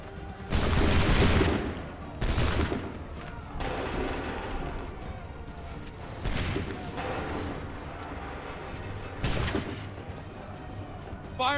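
Musket volleys in Assassin's Creed 3: several loud, crackling massed shots a few seconds apart, each a ragged burst that decays into battlefield noise, with shouted commands around them.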